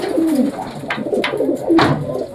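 Pigeons coo close by in low, throaty rolling calls, several overlapping phrases over a constant background of fluttering and movement.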